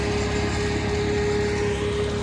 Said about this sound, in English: He's sawing the concrete right there.